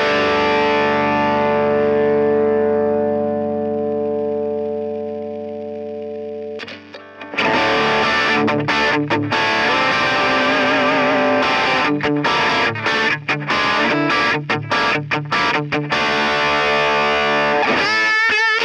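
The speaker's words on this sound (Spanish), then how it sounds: "Puedo bajar el master, subir el gain, subo el level y tengo una distorsión bastante buena." Distorted electric guitar played through an amp model on a NUX MG30 multi-effects unit: a sustained ringing chord fades out, then a loud burst of driven, rhythmic riffing with choppy palm-muted stabs and sustained notes.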